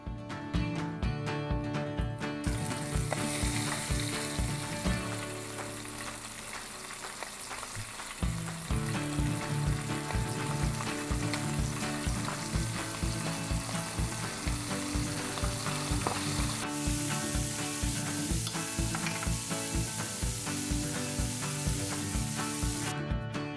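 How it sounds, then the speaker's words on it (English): Flour-coated squid frying in hot oil, a dense steady sizzle and crackle with a brief dip before the frying surges back, loud and continuous throughout with no voices. "You want to fry the squid for about 3 to 4 minutes or until it is going crispy"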